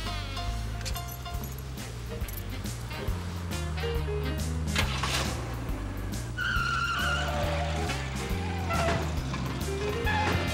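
A car drives hard and skids in a dramatic sound effect, its engine drone steady underneath while tire screeches and sharp bursts rise over it, with music-like tones and a muffled crash-like burst near the end.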